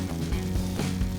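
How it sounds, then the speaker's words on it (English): Mayo-coated chicken fresh out of the oven sizzles continuously with a steady crackling hiss, close up, accompanied by a low hum from the kitchen. "So it just came out of the oven, and this is what it looks like. It's sizzling."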